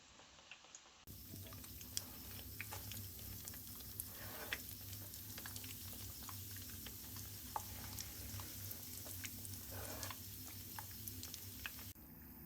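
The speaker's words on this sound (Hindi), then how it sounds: "मीडियम टू लो फ्लेम पर शैलो फ्राई करेंगे। ऑयल गर्म हो चुका है।" Vegetable patties shallow frying in hot oil over a medium-to-low flame, a steady close sizzle and crackle that holds for the whole stretch with no talking.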